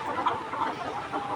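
Layer hens clucking inside a poultry shed on a hot afternoon with fans running overhead, a short burst of soft, overlapping murmured clucks heard close.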